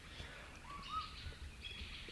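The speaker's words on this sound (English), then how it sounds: "The butcher bird's on our esky." A butcherbird calling at a lakeside campsite by Wivenhoe Dam, perched on a cooler: a few faint, clear whistled notes over steady outdoor background hum.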